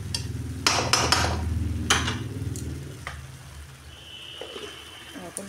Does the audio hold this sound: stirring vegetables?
yes